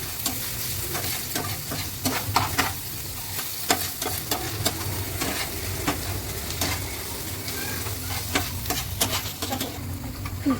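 Chopped onion, capsicum and garlic fry in hot oil while being stirred, giving a steady close-up sizzle with quick crackles and scattered scraping clicks across the whole stretch.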